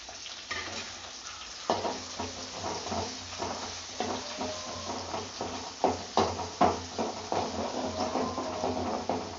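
Onions, curry leaves and spices sizzle in hot oil in a pan while being stirred for a village chicken korma, a steady frying hiss broken by scraping stirs, fairly quiet and with no talking.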